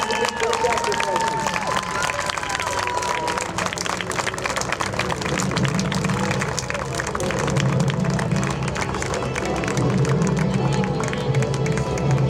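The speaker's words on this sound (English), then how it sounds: "Just put your hands together and give them a round of applause" A large outdoor crowd at the NAS Patuxent River air show applauds and cheers for World War II veterans, a dense continuous wash of clapping with a murmur of voices through it, steady and loud from start to finish.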